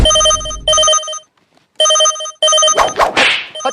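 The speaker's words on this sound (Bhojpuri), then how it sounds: "केकर फोन आ रहलू ललित?" A phone rings with a loud, close electronic tone in three bursts separated by short gaps, the last cut off by sharp knocks and rustling handling sounds.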